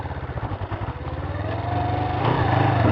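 A sportbike engine bogging in second gear while riding off-road, its low pulsing chug rising into a strained, louder drone as revs slowly build, close and continuous.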